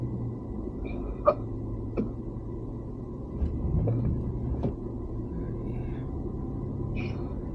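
A Jeep drives through deep snow in Vancouver, Canada, giving a steady, fairly loud low engine rumble with a few sharp knocks and clicks scattered over it, and no talking.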